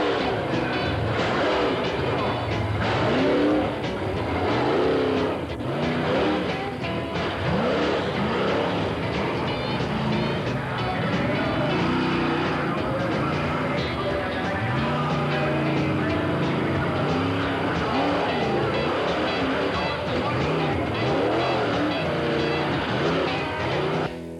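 Loud, continuous engine roar and revving from monster trucks such as the Skull Bandit racing at a show, with shifting pitch and crowd-level din throughout and no clear speech.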